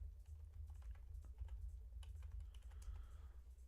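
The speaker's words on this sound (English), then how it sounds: "I'll type it in the chat." Fingers typing on a computer keyboard: a quick, uneven run of soft key clicks, faint and close, over a steady low electrical hum.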